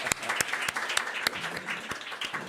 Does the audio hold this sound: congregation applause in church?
yes